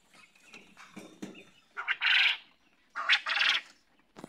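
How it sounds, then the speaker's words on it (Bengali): Male quails call from a farm enclosure in a few bursts, each a short raspy chirping phrase, some nearer and some farther off, with faint clucks and rustling between them and no speech. "এই যে পুরুষ পাখি ডাকতেছে কিন্তু ওই সাইডেও ডাকতেছে।"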